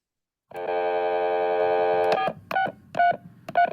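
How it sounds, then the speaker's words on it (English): A telephone keypad dials a number: a long sustained tone, then several short separate beeps in an uneven rhythm, clear and close, with no talk. "Está marcando un número, like this."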